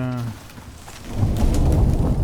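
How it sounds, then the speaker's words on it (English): In the survival video game Icarus, a flash storm opens with a brief tonal tail and then builds into steady heavy rain with rolling thunder, loud and continuous, with no talk. "Alright, so we're going to be in for a flash storm here."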